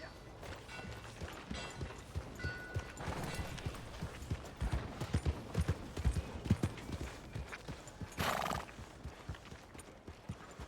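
Horse hooves clip-clopping in the video game Red Dead Redemption 2, a run of fairly quiet, uneven hoof beats with a brief burst of noise near the end.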